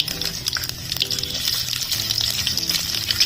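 Whole cumin, chopped garlic and chopped onion sizzle steadily in hot oil, a continuous bright frying hiss with small pops and crackles throughout, close and fairly loud, with no talking.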